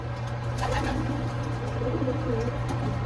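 Young racing pigeons coo in a loft, soft throaty repeated calls layered over a steady low hum, fairly close and continuous with no speech.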